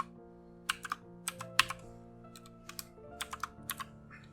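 Typing on a computer keyboard, heard alone and up close: irregular bursts of sharp key clicks, some in quick runs and others spaced out, over a steady low background hum.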